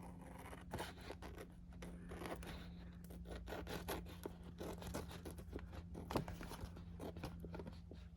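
Scissors trim paper coated in glue for an accordion glue book, giving a steady run of close, soft snipping and scraping rubs over a low constant hum, with no talking.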